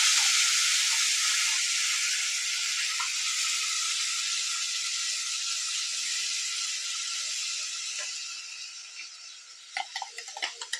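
Tomato paste hits a hot pan with cumin for paneer lababdar, setting off a loud, steady sizzle and hiss that fades gradually, with a few clinks and scrapes near the end.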